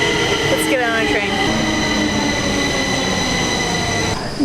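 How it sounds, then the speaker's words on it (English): A Stockholm underground metro train rumbles loudly and steadily, with a brief high wheel squeal and continuous tonal whine from the carriage, close and constant throughout. "Let's get on a train."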